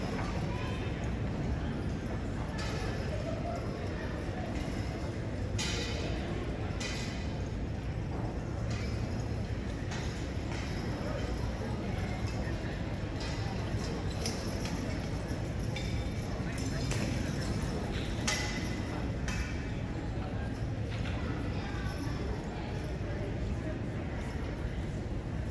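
Draft horses' hooves clip-clop on the ground at a split-weight horse pull contest at Michigan State University, faint irregular thuds beneath a constant outdoor crowd murmur and nearby talking.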